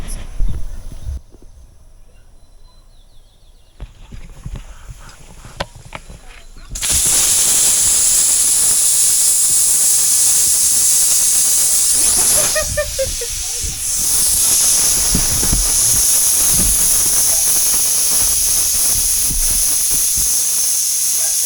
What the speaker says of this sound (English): allow steam to vent for 10 minutes